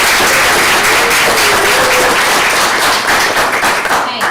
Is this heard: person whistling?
no